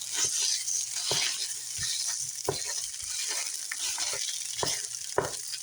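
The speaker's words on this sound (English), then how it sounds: "we're going to start by getting the sausage, tomatoes, spinach, and our Italian seasonings all cooking together in our pan" Sausage, tomatoes, spinach and Italian seasonings sizzle in a pan, a steady close frying hiss broken by regular clicks of a utensil stirring and breaking up the meat.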